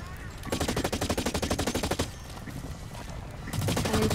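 Assault rifle fire in Blacklight: Retribution team deathmatch: a loud, rapid automatic burst of evenly spaced shots lasting about a second and a half, then a lull of rumbling game noise and another burst starting at the end.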